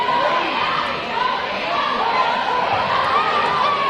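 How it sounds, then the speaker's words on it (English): Loud home crowd at a high-school basketball game, the Northland Classic with the hometown Hornets against Lincoln, roaring continuously throughout with dense chatter and shouting, a play-by-play voice over it. "And this crowd is insane right now."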